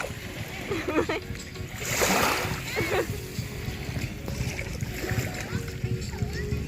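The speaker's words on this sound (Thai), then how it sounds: "กำลังเรียกคลื่นนะ" Sea waves splash on the beach at Bang Saray, Sattahip, Chonburi, Thailand: a burst of surf and washing water in the middle, with lighter splashes around it, while voices, including a child's, talk nearby.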